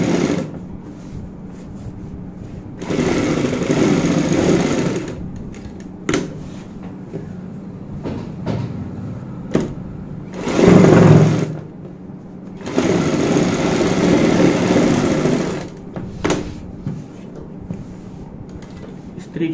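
A sewing machine topstitches the folded-in V neckline of a kurti, running in several bursts of steady whirring separated by quiet pauses and softer handling noises.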